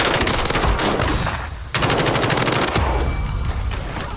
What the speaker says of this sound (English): Get that gunfight over with.